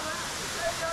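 TK Falls, a waterfall near Bangalore, gives a steady, dense rushing roar that fills the moment, with a voice speaking faintly over it.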